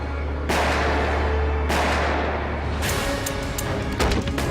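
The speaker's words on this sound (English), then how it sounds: "Herb shoots 3 times before his gun jams" Three loud pistol gunshots, each booming with a long reverberant tail, before the gun jams, followed by lighter clicking and rattling.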